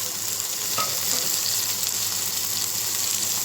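Fish heads and onion fry in a pan with a loud, steady sizzle and crackle, a brief stir or clatter near the start, close and continuous with no talking.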